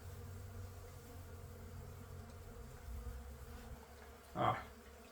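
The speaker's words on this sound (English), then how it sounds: "There's a lot of bees coming in." A steady low hum of many honeybees buzzing fills the background, with a brief louder bump near the end.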